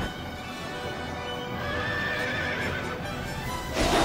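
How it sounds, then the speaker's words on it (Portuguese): Horses charge in Nobunaga's Ambition: Awakening, a feudal Japan strategy game, with steady galloping hoof clatter under dense battle noise and neighs throughout, rising slightly toward the end. "Ele vai chargear com o cavalo."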